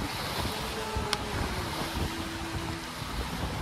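Wind rushes steadily across open water while a sailboat runs along the Mediterranean, broad continuous hiss with waves and hull noise, a faint tonal whine drifting through the middle and a brief sharp click partway.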